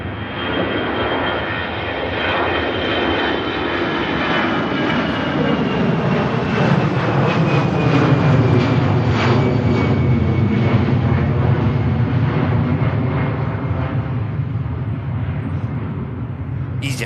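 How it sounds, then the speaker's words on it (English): An EasyJet jet airliner powers out on its takeoff roll at Manchester Airport, a loud, sustained engine roar rising and swelling before slowly fading, with a voice speaking faintly over it. "EasyJet powers out,"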